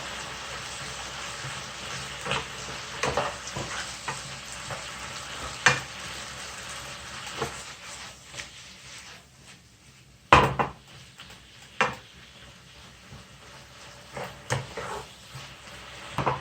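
Stirring food frying in a pan with oyster sauce and sesame oil while cooking jajangmyeon: soft sizzling underneath, with scattered scrapes and knocks of a utensil against the pan and a sharper clatter midway.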